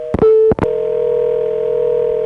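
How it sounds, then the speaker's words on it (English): A 1983 1A ESS Centrex phone line gives a short call waiting beep, heard as a loud, clean steady tone after a couple of brief clicks. "I've got a call waiting beep."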